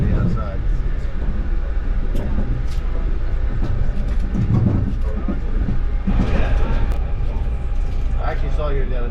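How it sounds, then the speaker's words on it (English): A PATH commuter train passes on the tracks, a steady loud rumble with clattering wheels and faint squeals over about nine seconds, with a person talking over it. "So, there's the path train here, right?"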